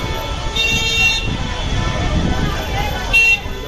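Car horns toot in a Mumbai traffic jam during the Lalbaugcha Raja festival crowd, two sharp honks standing out over a steady roar of engines and road noise, with people talking close by.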